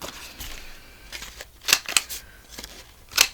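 Scissors snip through a paper pocket in a few quick crisp cuts, close by, with light paper rustling between the snips.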